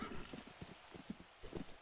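Horse hooves clip-clop in a steady rhythmic gallop in the video game Call of Juarez: Bound in Blood, moderately close with a faint low rumble behind, no talk over them.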